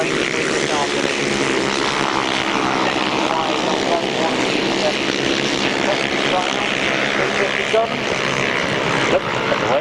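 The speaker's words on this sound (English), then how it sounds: "He's the supplier of that Godden engine that Keith Potts is racing with this afternoon" A racing motorcycle fitted with a Godden engine roars loudly and continuously through a race, its droning engine note holding steady with a voice talking over it.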